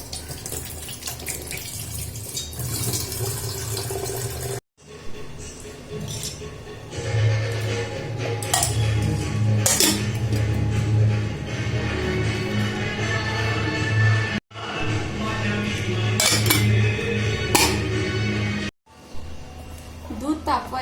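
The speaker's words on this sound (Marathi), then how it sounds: "स्वच्छ करायची किटली स्वच्छ घासून पुसून म्हणजे स्वच्छ घासल्या धुवायची" An oil kettle is scrubbed and washed in a kitchen sink under a running tap: steady splashing water with a few abrupt breaks, a voice talking over it.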